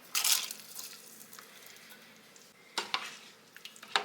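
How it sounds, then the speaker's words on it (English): A spoon scrapes and stirs smoked chicken, rice and canned small sweet peas in a pot, giving two bursts of clattering and scraping separated by a quiet stretch, close and fairly soft, with no talking. "I'm just going to get all that stirred in really good."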